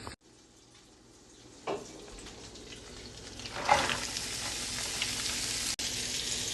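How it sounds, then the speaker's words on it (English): Shrimp cook in butter in a pot with a soft, steady sizzle that grows a little louder midway, punctuated by a couple of faint clatters, with no voices. "Now you can cook your shrimp in the same pot, add some butter to it."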